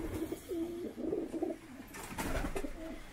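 Pigeons cooing softly in low, throaty rolling calls, several overlapping, with faint rustling and background noise.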